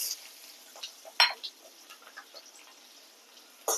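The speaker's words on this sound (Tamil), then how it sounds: "வெந்தயமும் கடுகும் பொரிஞ்சிருச்சுங்க. வெங்காயத்தை ஆட் பண்ணிக்கலாம்." Mustard and fenugreek seeds splutter in hot oil, then small onions go into the pan for a bitter gourd tamarind curry, giving a soft steady sizzle broken by a couple of sharp metallic stirring clatters close by.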